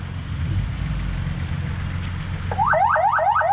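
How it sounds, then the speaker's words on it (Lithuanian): A rally car's audible signal being tested: a low engine rumble runs alone for over two seconds, then a loud, repeating wailing siren sweeps up and down in quick cycles until the end. "Ar veikia pas mus garso signalizacija?"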